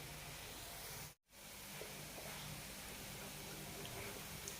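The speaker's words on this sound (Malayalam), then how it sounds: "ഗുലാബ് ജാമുൻ്റെ കളറാകുന്നതുവരെ ലോ ഫ്ലെയിമിൽ വറുത്തെടുക്കാം." Vellacheedai dough snacks fry in oil over a low flame, giving a soft, steady sizzling hiss that runs throughout, broken by one brief dropout early on.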